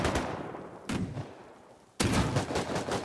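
Gunfire in the survival video game Rust: a sharp shot at the start, another at about one second, then a dense rapid burst of loud shots with echoing decay between them.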